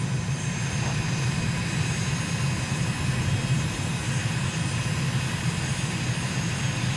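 Steady, loud aircraft engine drone from a plane on final landing approach in Microsoft Flight Simulator over Dushanbe, Tajikstan, a continuous low hum with no talk throughout.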